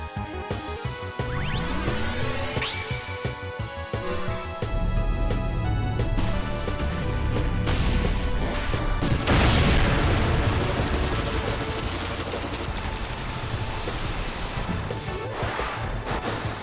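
A beam cannon fires in Final Fantasy VIII with rising electronic whines, a charging sweep and a sustained roaring blast layered over game music.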